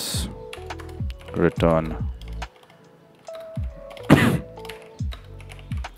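Computer keyboard typing while entering Go code for a microservice project, bursts of clicky keystrokes alternating with someone talking over them at close range.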